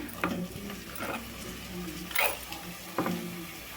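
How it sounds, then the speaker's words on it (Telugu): Ridge gourd pieces drop into a hot pan and sizzle softly while a spoon stirs them, with a few brief scraping clatters standing out over a quiet, steady fry. "ఇప్పుడు కట్ చేసి పెట్టుకున్న బీరకాయ ముక్కలను అయితే వేసుకుందాము"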